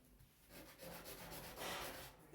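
Sandpaper rubs over wood in steady strokes in one direction during a woodcraft class, a soft, close scratching with no talking.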